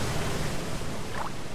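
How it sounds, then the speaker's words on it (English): A waterfall in the Dying Light video game, a dense, constant rushing roar of falling water that is loud and close throughout. "Waterfall."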